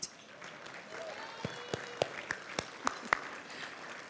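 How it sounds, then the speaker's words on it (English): An audience applauding friends and allies at a speech event, with scattered individual claps popping out over a steady, moderate wash of clapping; some faint talk mixes in. "Please, a round of applause for these wonderful friends and allies"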